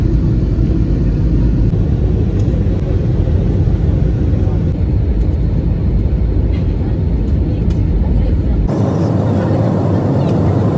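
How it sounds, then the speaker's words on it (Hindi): Steady loud cabin roar of an airliner in flight after takeoff bound for Tawau, a broad continuous engine drone that drops slightly near the end. "हमारी फ़्लाइट तवाव के लिए टेक ऑफ कर चुकी है।"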